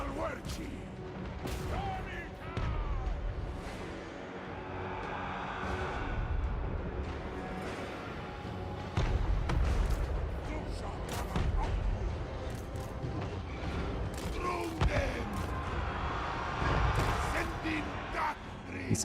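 Cannons fire repeatedly on a Total War: Warhammer battlefield with Chaos Dwarfs, booming shots scattered among a dense clatter of battle noise, with a voice talking over it.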